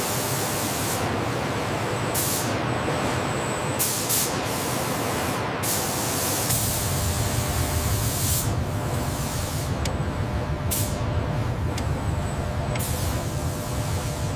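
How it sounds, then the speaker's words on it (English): Robotic arms spray base coat onto Ford F-150 panels in a factory paint booth, a continuous loud hiss of atomized paint, close and steady, with brief bright bursts as the spray pulses on and off. "robotic arms begin applying the base coat, the color layer that gives the F-150"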